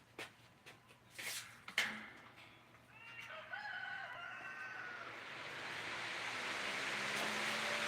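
A rooster crows in the background of a workshop, its calls rising around the middle and trailing off, fairly faint beneath a steady fan hum and a few sharp knocks.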